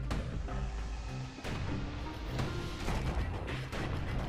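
Guns firing at a security skiff in the action game Bastion, a dense continuous barrage of booms and cracks layered over steady music, loud throughout with a brief dip before the firing resumes.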